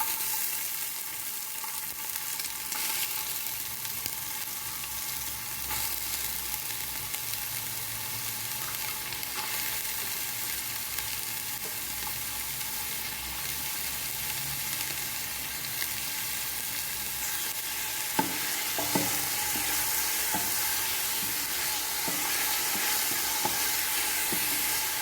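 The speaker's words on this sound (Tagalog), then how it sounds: "We will put oil to our lid number 4 casserole. Let's put our onions." Onions fry in oil in a lidded casserole pot while lamb majboos is cooked, giving a steady, close, even sizzle and hiss that holds throughout with a few faint clinks and no talking.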